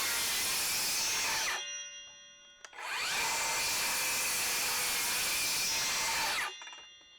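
A Milwaukee M18 Fuel 7 1/4-inch cordless circular saw cross-cuts wood in two loud, sustained bursts, each spinning up sharply and cutting steadily, separated by a brief pause.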